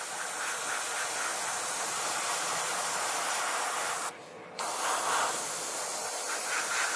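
An airbrush spraying Tamiya Dark Iron XF84 paint thinned 50-50 with X20 thinner at 15 psi gives a steady close hiss, broken once by a brief pause before it resumes.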